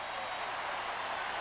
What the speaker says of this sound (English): This crowd is loving it here in Arrowhead Stadium